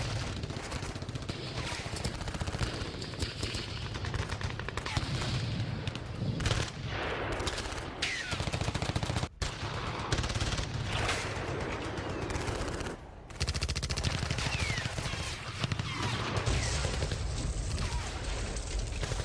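Sustained automatic gunfire in Zaporizhzhia during the war, loud, dense bursts of rapid shots running almost continuously with brief pauses, no talk.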